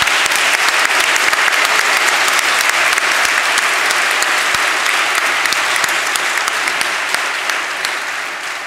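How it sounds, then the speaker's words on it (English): An audience gathered in a synagogue for an evening talk applauds a security officer with sustained, crisp clapping from many hands, steady and loud before tapering slightly at the end. "he deserves a round of applause"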